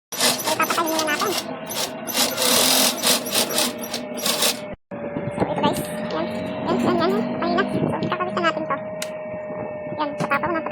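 A sewing machine stitches a sling bag in long, steady runs of dense mechanical whirring, with one brief stop partway through before it starts up again. A voice talks intermittently over the machine.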